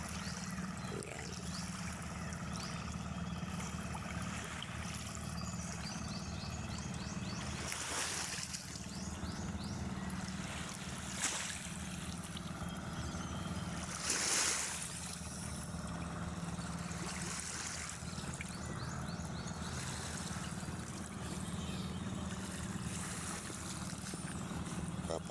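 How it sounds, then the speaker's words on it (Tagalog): Motorized pump boats pass by on clear sea water off a small islet, a steady droning engine hum that swells as they come near. "yan yung mga pump boat na dumadaan."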